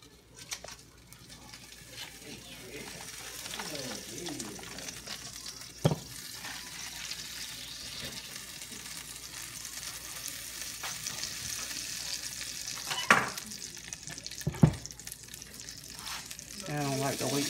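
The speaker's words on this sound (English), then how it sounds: "I'm gonna put my butter in here and let it sear." Butter searing and sizzling in a pan while seafood rice is cooked, a soft steady hiss with a few clinks and knocks and some faint background voice.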